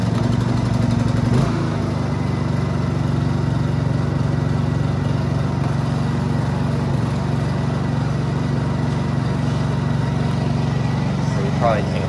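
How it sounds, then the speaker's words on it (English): Honda EU2200i inverter generator cold-starting: a brief pull and catch, then the small engine settles into a steady, loud, close drone with a slight hesitation in its note, and a voice talks over it. "let me start it up and y'all can see. That's the cold start."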